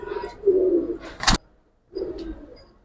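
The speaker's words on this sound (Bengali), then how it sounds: "এটা হচ্ছে সিলভার গলা কবুতর" A silver-necked Giribaz pigeon coos twice in low, rolling phrases, close by, with a brief sharp click between them and no talking.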